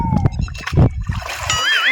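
Water splashes and sloshes close by as people bathe outdoors, with gurgling bursts and brief voices breaking through, then a thinner watery patter toward the end.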